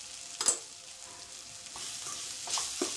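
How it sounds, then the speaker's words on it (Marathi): Turmeric, salt and chili powder being stirred into oil in a pan for a Maharashtrian dish, a soft sizzle under a few scraping spoon strokes, close and fairly quiet. "छान मिक्स करून घ्यायचं।"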